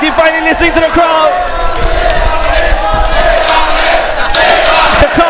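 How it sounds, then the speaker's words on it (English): Wild crowd cheering and shouting at a handicap elimination pro wrestling match, loud and sustained throughout with a commentator's voice running over the noise. "The crowd going wild."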